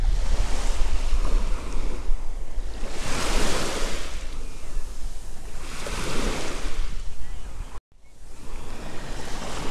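Ocean waves wash onto Palmanova Beach in Mallorca on a February day, rolling surges rising and falling every couple of seconds under heavy wind buffeting on the microphone, with a brief dropout near the end.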